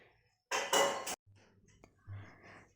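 A spoon clinks against dishes as hot, steaming food is served at home: a loud, dense burst of metallic clatter lasting about half a second, then a softer knock and quieter scraping.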